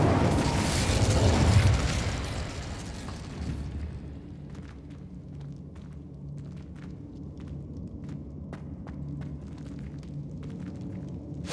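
The Incendio fire spell in Hogwarts Legacy bursts out as a loud whooshing blast in the first few seconds, then dies away into faint game ambience with scattered small clicks and footsteps.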